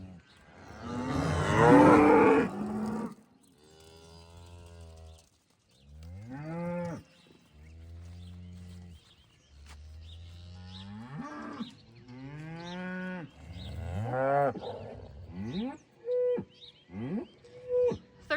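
Cattle moo repeatedly while being moved across a farm pasture in the morning. The calls are loud and drawn-out, separated by short pauses and growing quicker and shorter toward the end, with a burst of handling noise near the start.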